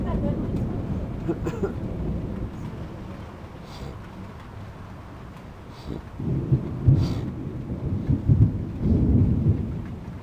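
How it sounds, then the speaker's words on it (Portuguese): Thunder from a lightning storm over Blumenau rolls in deep, rumbling waves over steady rain, growing louder toward the end, with voices talking faintly in the background. "Belos raios em Blumenau."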